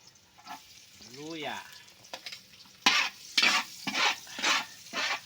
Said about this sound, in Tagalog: pagkalagay ng bawang, isunod po natin ang luya.